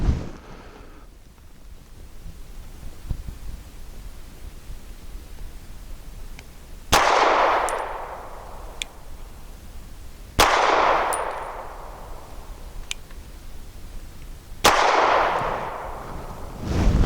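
Bersa TPR9 pistol fired at a range, with three sharp, loud shots spaced a few seconds apart, each trailing off in a ringing decay, and quieter clicks and handling noise between them.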